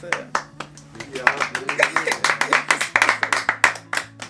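A small group of people claps in quick, uneven bursts, close and sharp, with talking and cheering voices mixed in over a low hum.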